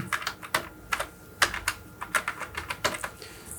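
Crisp keystrokes tap on a computer keyboard in a short burst as a word is typed, quiet and close, in irregular clusters with no talking.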